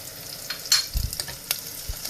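Green chilies frying in a pan for tarka dhal, giving a soft, steady sizzle with a few brief stirring clinks and scrapes, fairly close and with no voices.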